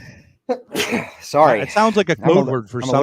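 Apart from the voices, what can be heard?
sneeze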